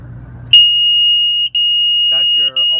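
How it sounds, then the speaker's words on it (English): A motorhome carbon monoxide detector sounds a loud, piercing electronic tone that holds steadily, briefly cutting out twice, with a voice speaking near the end. "That's your alarm. Should you have carbon monoxide in the motorhome, that would be your alert."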